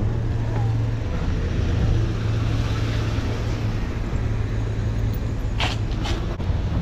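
Street traffic in Boyle Heights near a school rolls past in a continuous, fairly close rumble of car engines and tires, with a brief sharper hiss near the end.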